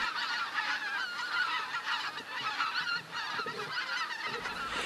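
European white-fronted geese calling at Lake Kerkini in northern Greece, a flock's busy overlapping honks and yelps, continuous and moderately distant, with no voices.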